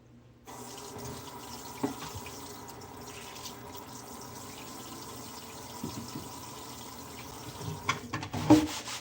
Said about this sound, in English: I'm so happy that we replaced our kitchen faucet, and I'm like to wash my dishes now